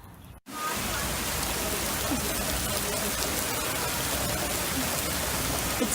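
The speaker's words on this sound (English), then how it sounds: "It's bucketing out." Heavy spring downpour bucketing onto surfaces outdoors, a dense, steady roar of rain that starts abruptly after a brief pause and continues loud and unbroken.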